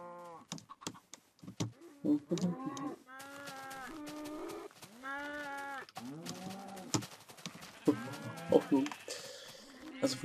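Sheep in the video game Minecraft bleat repeatedly at close range, a string of wavering, nasal calls in quick succession with small gaps between them.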